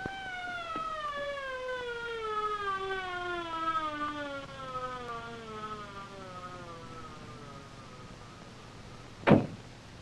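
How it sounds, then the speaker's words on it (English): An ambulance siren wails with a descending tone sweeping down over several seconds, heard at a moderate distance, followed by a single sharp thud near the end. "It's an ambulance."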